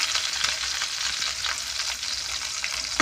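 Chopped garlic fries in white oil in a wok for chicken biryani, a dense, even sizzle with constant crackle heard up close, no voices.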